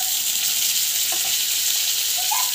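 Onion, garlic, coconut and garam masala sauté in a pan for a pepper chicken dish, giving a steady, even hiss with a few faint scraping touches.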